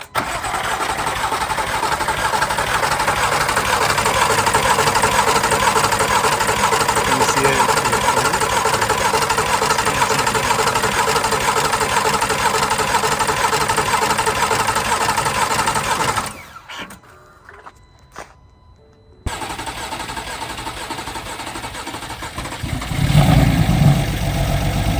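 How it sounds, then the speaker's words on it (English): An oil-starved BMW M4 with a freshly rebuilt engine cranks and runs for about sixteen seconds with a loud, steady mechanical drone. It cuts out briefly, then restarts and keeps going, revving slightly near the end. "let's try to crank the car right now"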